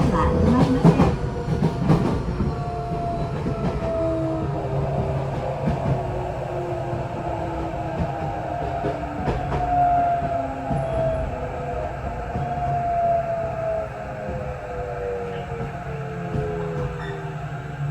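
Onboard a Tokyo Metro 8000 series train, set 8104F, with Mitsubishi IGBT-VVVF inverter, running between Minami-Kurihashi and Sengendai: steady rolling rumble and track clatter, with gliding motor whine tones that rise and fall.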